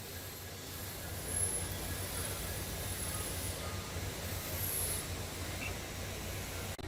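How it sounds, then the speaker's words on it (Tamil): Steady rumbling of the 22609 Mangalore to Coimbatore Intercity Express arriving along the tracks, with faint high squeals of wheels, continuous and fairly distant, no voices. "நம்ம 22609 இன்டர்சிட்டி எக்ஸ்பிரஸ் வந்துருச்சுங்க"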